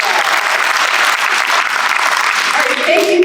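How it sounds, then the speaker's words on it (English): A kindergarten welcome night audience of parents gives a round of applause, loud and steady clapping throughout with a voice rising faintly underneath near the end. "let's give him a round of applause"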